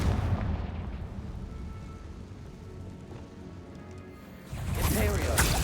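A Confringo blasting spell from the video game Hogwarts Legacy, heard as a steady rumbling roar that swells into a louder, denser burst near the end.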